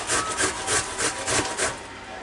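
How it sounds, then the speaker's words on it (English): An onion is rubbed back and forth on a kitchen grater with its back side left on, making loud, steady rasping strokes in a regular rhythm of about two per second, close and alone. "if you leave the back side of the onion on and put it against the grater, it does a lot better"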